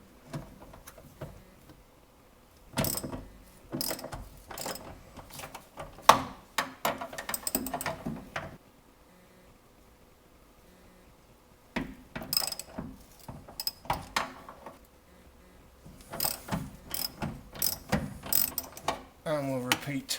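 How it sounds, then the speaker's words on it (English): A ratchet with a 9/16 socket loosening hinge bolts, bursts of rapid clicking pawl strokes in several separate runs with quiet gaps between, close and clear. "we take a 9/16 socket and we start to loosen off the bolts"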